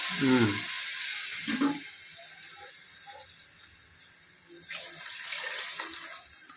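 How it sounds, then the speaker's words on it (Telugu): Water splashes and hisses as it is poured into cooking masala in a hot pan for mutton curry, a steady sizzling pour with brief louder bursts at the start and again near the end. "నీళ్ళు పోస్తాను"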